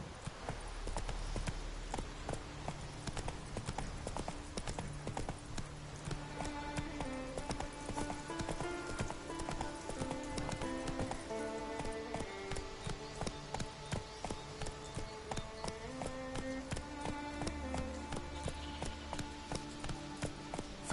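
Roach the horse gallops in The Witcher 3, quick rhythmic hoofbeats pounding steadily and fairly close over a backdrop of tonal game music.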